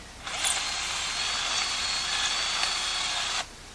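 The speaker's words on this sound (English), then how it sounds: "all I'm doing is drilling holes in a nice depth" A power drill bores a hole about 2.5 to 3 centimetres deep into rock, a loud, steady, high whine lasting about three seconds, close and alone, with silence before and after.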